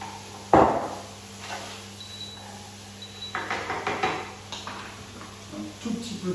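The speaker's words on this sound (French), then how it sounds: "On ajoute les butternuts." Butternut squash pieces are tipped into a hot pan with white onions, landing in one sharp clatter, followed by scattered scraping and knocks of a utensil stirring, close and moderately loud.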